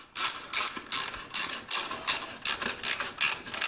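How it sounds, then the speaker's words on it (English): A hand ratchet clicks rapidly in repeated bursts while tightening bolts near the exhaust port of a Briggs & Stratton small engine, close and crisp with brief pauses between strokes, and no voices. "And then go back with your ratchet"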